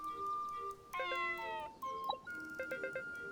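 Cat meowing in the video game Fantasy Life i, several short, tonal, chirpy meows in a row, clear and close, with brief pauses between them and little else underneath.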